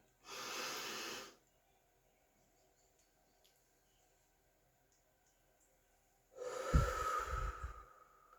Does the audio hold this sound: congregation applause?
no